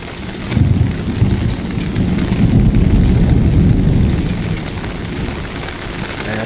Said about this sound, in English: Here, listen for the thunder